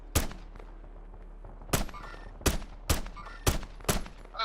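Gunfire in the video game Warzone: a single sharp shot, then a tight burst of five loud, evenly spaced shots with short ringing tails over a low, steady background hum.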